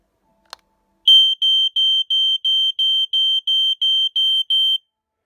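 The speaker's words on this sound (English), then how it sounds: "So I'm going to test it for you guys now." After a brief click, a smoke alarm sounds a rapid series of about eleven loud, piercing beeps at a steady rhythm, then stops.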